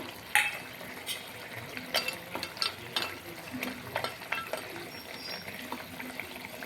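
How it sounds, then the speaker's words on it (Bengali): Fried lentil dumplings are tipped into a simmering cucumber curry and stirred, with scraping spoon clinks and soft bubbling throughout at close range. "এবার এর মধ্যে আমি ভেজে রাখা বড়িগুলো দিয়ে দিব।"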